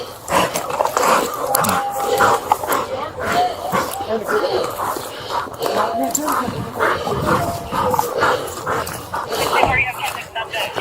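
Police dog released from a patrol car after a high-speed chase, with barking, whimpering and scuffling heard up close under constant shouted talk from officers.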